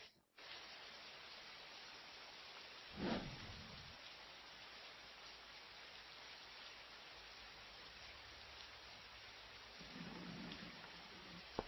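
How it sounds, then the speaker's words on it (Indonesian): Heavy rain pours steadily as a dense, unbroken wash of noise with one brief louder burst, continuing alone without any voices. "Hujannya deras sekali."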